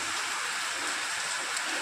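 Steady, heavy rain falls without a pause, a dense and even hiss of drops that stays loud throughout.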